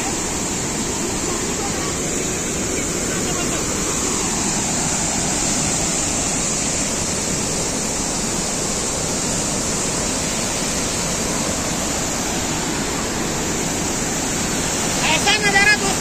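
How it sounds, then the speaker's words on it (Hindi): A powerful waterfall pours down with great force, making a dense, steady roar that stays close and loud without a break from start to finish. "वहां पर देखिए कितना फोर्स से पानी गिर रहा है।"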